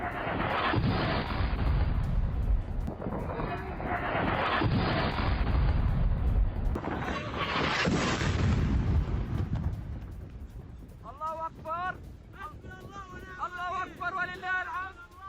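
Explosions from an air strike on a building, heard as a continuous, heavy rumbling roar that surges in waves for about ten seconds. The roar then thins into a noisy background with voices calling out.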